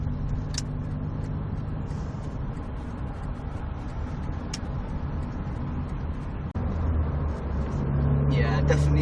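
Vauxhall Astra Mk4 SXi engine pulling steadily under acceleration, a continuous low drone heard from inside the car, with a brief dip and then a slightly louder, rising tone near the end.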